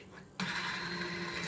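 An immersion blender switches on abruptly and whirs steadily, close by, pureeing a cheddar apple soup in a kitchen.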